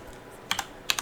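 A few quick keystrokes on a computer keyboard, close and crisp, falling in two short pairs of clicks with a brief gap between them.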